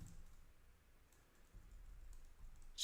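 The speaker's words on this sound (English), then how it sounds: "Today I'm very, very bad at typing." Quiet, sparse keystrokes tap on a computer keyboard during a coding session, a few soft clicks scattered over faint low background hum.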